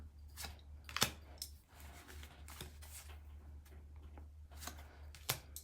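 Tarot cards riffle and slap together in quick rustling bursts, soft and close, with a low steady hum underneath.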